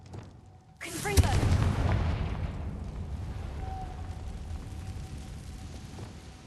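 A Confringo blasting spell from Hogwarts Legacy bursts with a sudden booming explosion, then a long rumbling decay that fades slowly over several seconds.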